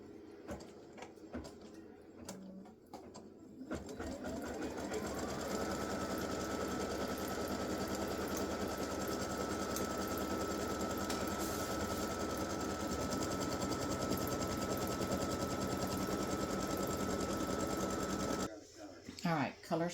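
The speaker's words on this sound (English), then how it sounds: "I'm going to stitch the vertical and the horizontal alignment" An embroidery machine stitching vertical and horizontal alignment lines before a t-shirt appliqué, a fast steady mechanical rattle that starts after a few seconds of quiet handling and runs loud and continuous until stopping near the end.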